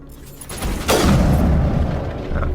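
Weapon shot fired at an enemy in Mass Effect, a single loud close crack followed by a booming tail and lingering rumble of combat ambience.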